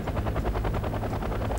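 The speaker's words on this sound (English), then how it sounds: "And my helicopters are just doing their job." Helicopters in a real-time strategy video game give a steady, loud rotor chop, a fast even rhythmic thumping that fills the whole short stretch.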